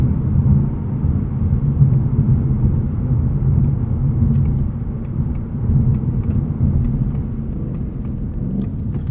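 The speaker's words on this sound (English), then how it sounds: "Some nice downshifts there from the car in sport mode." A 2024 Ford Mustang Dark Horse with a 10-speed automatic in sport mode rumbles steadily with low whirring drone, revs shifting slightly as it downshifts through gears; continuous and fairly loud, no talking, quiet exhaust mode on.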